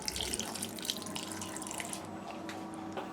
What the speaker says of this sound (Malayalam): ഇനി ഇതിലോട്ട് നമുക്കൊരു മുക്കാൽ കപ്പ് വെള്ളം ചേർത്ത് കൊടുക്കാം